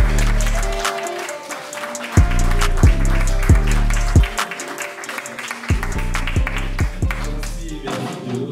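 Audience applause greets a speaker being introduced: dense, steady clapping from a crowd, mixed with loud, bass-heavy music that pulses underneath.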